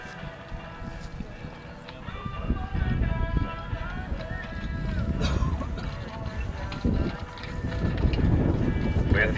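Horse hooves clip-clop in a steady trot during a driving marathon event with a team-drawn carriage, heard amid wind buffeting the microphone and rumbling outdoor noise.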